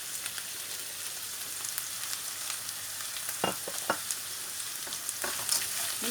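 Peppers, onions, frozen peas and sweet corn stir-fried in a pan for white sauce pasta, with a constant close sizzle broken by a few sharp scraping clicks of a spoon, and no talking.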